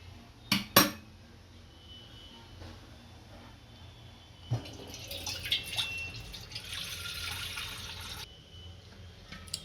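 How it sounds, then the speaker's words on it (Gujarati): Cold water is poured over boiled peas in a pot while making dhaba-style methi malai matar. A couple of sharp utensil clinks come first, then a steady splashing pour runs for about five seconds, close by, with no talking. "હવે આમાં ઠંડુ પાણી નાખી દઈશું થોડું।"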